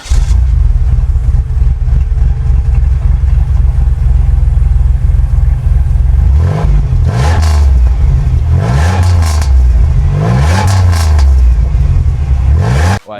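A Pontiac Grand Prix GTP's supercharged 3.8-litre V6 drones loudly throughout, with three rising revs that swell and climb in pitch over a steady low engine rumble, no speech.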